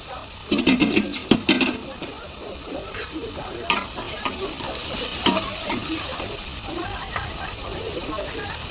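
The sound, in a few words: roasting chhole masala with kasuri methi in pan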